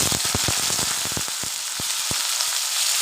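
Cut pointed gourd dropped into hot oil in a pan for rohu fish curry, a loud steady sizzle with irregular crackling pops, close and alone without talk.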